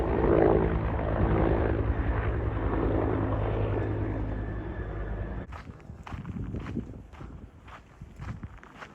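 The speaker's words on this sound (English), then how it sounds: "about that helicopter and all the noise" A helicopter's heavy thrumming drone fills the air for several seconds, then cuts off, leaving scattered footsteps and rustling nearby.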